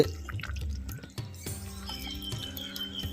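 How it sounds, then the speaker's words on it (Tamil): A pot of fried sardine fish gravy boils softly, with faint bubbling pops and small plops coming irregularly at close range. "நல்லா கொதியும் வந்துருச்சு"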